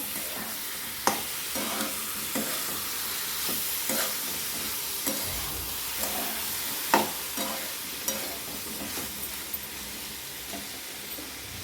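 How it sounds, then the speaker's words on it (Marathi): Cluster beans (gavar) are stirred in a pan over a soft, steady sizzle, with a spatula scraping and clinking against the metal at irregular intervals and no talking. "गवर टाकून घेऊया आणि गवर छान हलवून घ्यायची आहे बघा"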